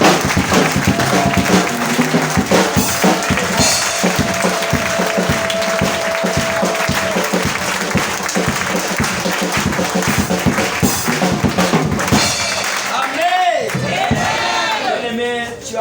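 A church congregation applauding and cheering for Jesus: loud, sustained clapping and crowd shouts filling the space, with a raised voice calling out near the end.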